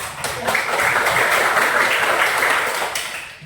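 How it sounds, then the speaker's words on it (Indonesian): A classroom of students claps together in a loud, dense burst of applause that holds steady for about three seconds and then fades away. "Kita beri aplaus bersama Siri"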